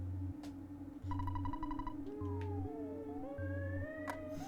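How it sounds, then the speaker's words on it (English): Earthbound video game: a synthesized cat meow rises and bends in pitch over looping chiptune music with a steady pulsing bass beat. "I think I hear Beef meowing from downstairs."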